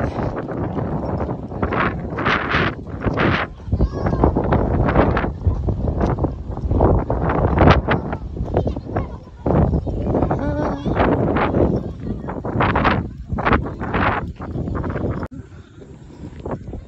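Strong wind buffets the microphone in continuous gusts, roaring and rumbling, while voices talk intermittently underneath.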